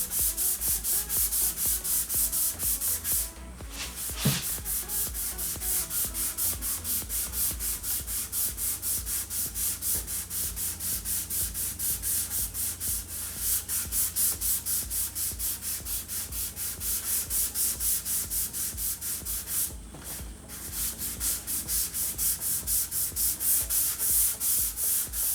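Steady, continuous sanding with a pad rubbing over an Amish-built wooden dining table, a rhythmic scraping texture held throughout with two brief pauses, fairly close.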